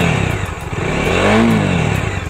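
A Bajaj Dominar 250 motorcycle engine idles roughly, then a throttle blip swings the revs up and back down, loud and close with a clattery mechanical edge.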